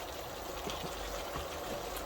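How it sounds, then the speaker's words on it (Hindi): A small splash of water poured into a pan of chicken masala, a soft, steady trickling pour heard close up under faint kitchen background. "थोड़ा सा इसमें पानी का ऐड करूँगी, ज़्यादा नहीं डालूंगी पानी"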